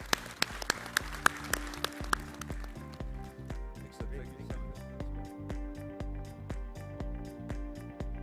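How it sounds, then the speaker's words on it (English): Audience applause for a panel at a blockchain and AI summit in Malta, starting with a few sharp distinct claps before settling into steady, moderate clapping from a crowd of conference attendees, with a low tonal hum underneath. "Give them a round of applause, please."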